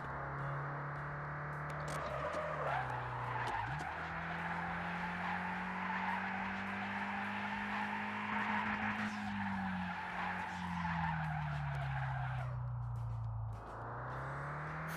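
Skidding tires and a sustained racing engine whine from a drifting car in the Vspeedway Alpha VR racing game, loud and continuous, with pitch shifts as the car slides through corners.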